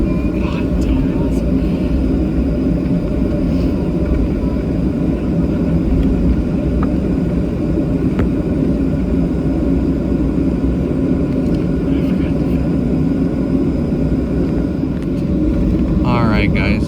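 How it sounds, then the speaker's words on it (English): A Delta Airlines Boeing 737-800 taxis after landing at Salt Lake City, heard from inside the cabin as a loud, steady engine and rumble drone. Speech runs over it the whole time. "we are currently taxiing over to B-21"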